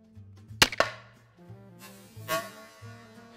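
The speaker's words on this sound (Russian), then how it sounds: "и стреляем" A reinforced mini crossbow fires an arrow: two sharp close snaps in quick succession, followed by a fainter thud a moment later, over a low background hum.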